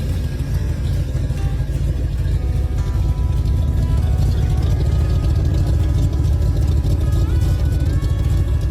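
A propane-powered rock crawler engine runs steadily and loudly close by, a continuous low rumbling drone with no pauses.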